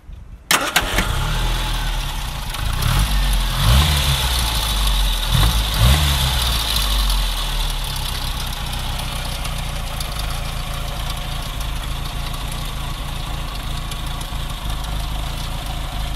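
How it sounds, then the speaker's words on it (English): A running 1970s Austin Allegro heard with the bonnet open, starting with a sharp click, then a few revs before settling into a steady, close, slightly knocking idle; no speech. "Now let's have a look under the bonnet while it's running."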